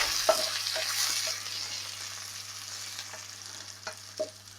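Browned onions frying in a pan for coq au vin, a steady soft sizzle with a few faint clinks of a utensil stirring, alone and close.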